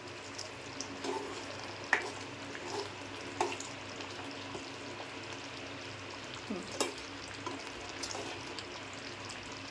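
Chicken liver masala (kaleji) cooking in a pan, Malvani style, giving a steady low sizzle with occasional soft stirring scrapes and clinks, moderately near, no voices.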